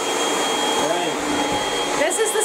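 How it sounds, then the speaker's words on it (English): A household vacuum cleaner runs steadily on a hardwood floor, a continuous close motor whine with brief higher tonal sweeps as it moves. "One last final vacuum before everybody comes in."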